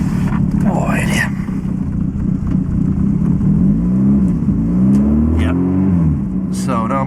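A Lotus Excel engine revs up and down in rising and falling sweeps, close and loud, with a steady idle rumble underneath and a voice talking over it.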